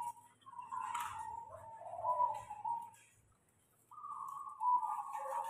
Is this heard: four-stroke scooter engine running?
no